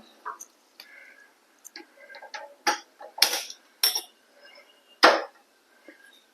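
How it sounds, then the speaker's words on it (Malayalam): A gas stove being lit in a home kitchen before cooking a bun omelette: several sharp, close igniter clicks at irregular intervals, with quieter small kitchen noises between them. "നമുക്ക് സ്റ്റൗ കത്തിച്ചു കൊടുക്കാം"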